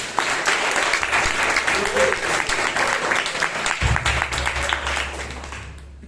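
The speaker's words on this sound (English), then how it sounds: "give Shreya and her team a big round of applause" Audience at a Bangalore Toastmasters club meeting breaks into dense, steady applause that stays loud for several seconds and then tapers off, with faint voices underneath.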